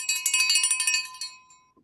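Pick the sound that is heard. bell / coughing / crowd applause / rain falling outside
bell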